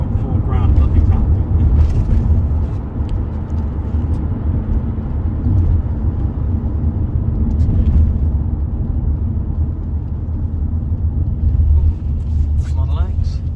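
Electric VW Beetle conversion accelerating at full throttle, a steady loud low rumble and whine of road and drive noise throughout, with people talking over it.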